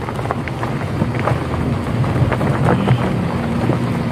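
An off-road vehicle pushes through a water stream near Pangin in Arunachal Pradesh, a steady loud rushing wash of splashing water and engine rumble with wind buffeting the microphone.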